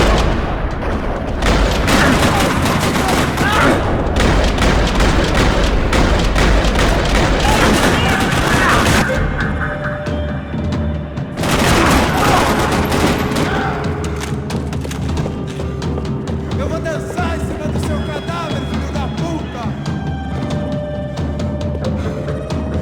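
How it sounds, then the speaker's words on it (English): Sustained, loud gunfire rattles through a parking lot in the video game Max Payne 3, with dense bursts of automatic shots and heavy booms that drop off partway, then resume more sparsely with a voice speaking among them. "Another parking lot rattling with gunfire."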